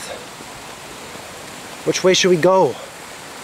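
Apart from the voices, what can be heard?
small stream flowing down to little waterfalls in a garden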